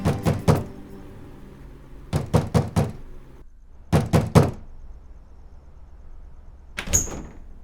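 Someone raps on a door with the knuckles in four separate bursts of three or four sharp, loud knocks, with quiet gaps between the bursts.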